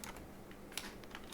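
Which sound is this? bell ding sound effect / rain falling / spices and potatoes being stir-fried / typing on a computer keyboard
typing on a computer keyboard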